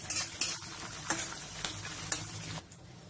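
Green chillies slit lengthwise and dry red chillies fry in a pan for tamarind pulihora, giving a steady close sizzle with several sharp crackles and clinks of a spoon stirring, quieter toward the end.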